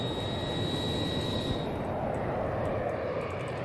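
A helicopter in the shooter game Battlefield 2042, a dense, loud rotor-and-engine roar that holds steady throughout with a thin whine fading out partway, and no voices over it.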